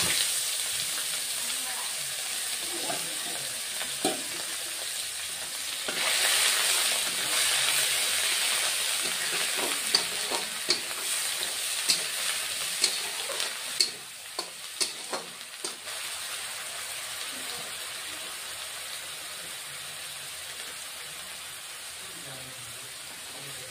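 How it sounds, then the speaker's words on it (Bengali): Onion paste sizzles and fries in oil with cumin seeds over a very low flame, a steady hiss that swells louder midway, punctuated by scattered crackles and stirring scrapes, with no talking. "পেঁয়াজটা একটু বন্ধুরা একটু লাল করে ভেজে নেব।"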